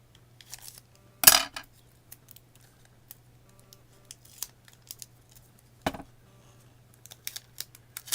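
Scissors snip small pieces of paper in half, with sparse light clicks and rustles around two sharper, louder cuts against a faint background hum.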